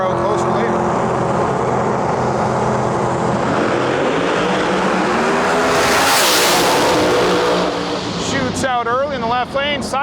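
Pro Mod drag race cars, a twin-turbo Chevelle and a Camaro, thunder down the strip at the Snowbird Outlaw Nationals qualifying, a loud sustained roar swelling as they pass, with an announcer's voice over the noise.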